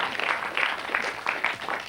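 A studio audience applauding on a 1993 British TV show: a quick round of dense clapping at moderate distance, rising and falling in uneven bursts across a couple of seconds.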